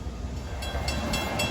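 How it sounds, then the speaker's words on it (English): A Long Island Rail Road train rolls past on the Port Jefferson Branch, a steady close rumble of rail noise with rhythmic wheel clatter building through the short stretch, no talking. "That's the first of several trains we'll catch here."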